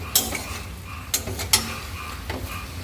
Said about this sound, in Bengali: আর দেখো এর মধ্যে আলুটা দিয়ে এবারে কষাচ্ছে।